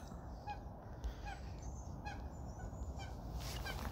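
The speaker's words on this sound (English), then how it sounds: "Male and female mallard, duck." Male and female mallard ducks give a handful of short, faint honking calls at irregular intervals over quiet outdoor background noise.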